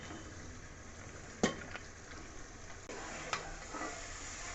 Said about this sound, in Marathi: आता घालूयात बारीक चिरून घेतलेला मुळा.